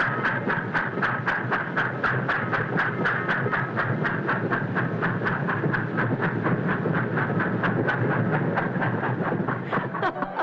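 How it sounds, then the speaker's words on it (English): A train rolls past with a steady rhythmic clickety-clack of wheels over rail joints, loud and continuous throughout. "John, your train."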